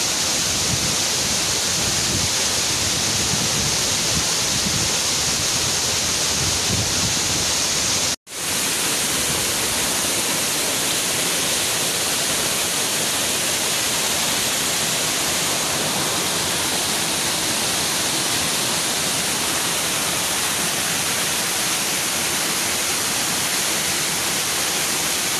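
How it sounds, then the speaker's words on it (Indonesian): Continuous loud roar of the Curug Kembar Cinyenang twin waterfall at Malasari, Bogor, with water pouring off a cliff into a pool, a dense steady rush close by with one brief dropout. "Di sebelah kanan ada aliran air dari tebing sebelah kanan."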